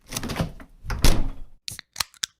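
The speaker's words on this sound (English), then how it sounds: "Pull on it and open the fridge door." A refrigerator door is pulled open by its handle, giving a rustling thump and then several short clacks and knocks, close and fairly loud.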